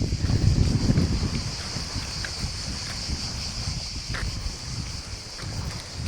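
Strong wind buffets the microphone at a seaside spot in Croatia, a continuous rough roar with heavy low rumble that surges loudest in the first second, then settles into a steady gusting blow with faint water and distant background sounds.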